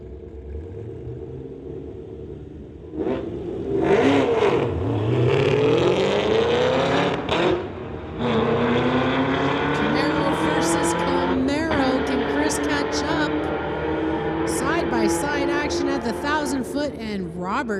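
A 2015 Chevy and a 2018 Chevrolet Camaro launch side by side in a street-legal drag race, engines revving and then roaring in rising, sweeping pitch as they accelerate hard down the strip, loud and close, with an announcer talking throughout.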